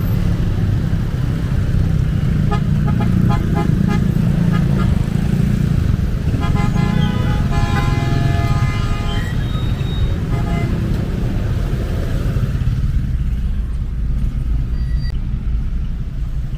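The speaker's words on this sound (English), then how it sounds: "Everywhere traffic." Congested road traffic around Fields Avenue in Angeles City, with a constant loud engine rumble and several car horns honking and tooting in bursts over the drone.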